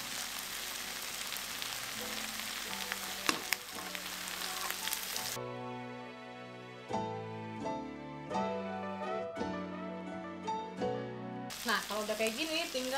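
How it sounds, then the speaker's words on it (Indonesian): Butter sizzles while chicken fries in a pan, a quiet crackling hiss that cuts out midway as melodic background music takes over, then returns briefly at the end. "kita tinggal masukin mentega lagi ya guys ya"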